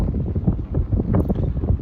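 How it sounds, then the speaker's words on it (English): Low, buffeting wind rumble batters the microphone outdoors in a park in uneven gusts, filling the low end with a steady roaring thump. "It's a little bit windy, which is probably going to affect the microphone,"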